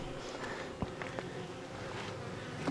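Honeybees buzzing steadily at an open hive during an inspection a few days after a split, a continuous dense hum close by with a few faint clicks and knocks.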